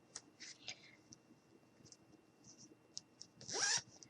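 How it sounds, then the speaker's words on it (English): Zipper closing up a fabric doll stuffed with fluff, made as a DIY standing hide-and-seek doll: a faint, soft rasping zip rises near the end after quiet rustling and handling noises. "And then we're going to zip it up."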